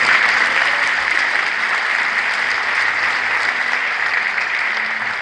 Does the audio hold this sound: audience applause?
yes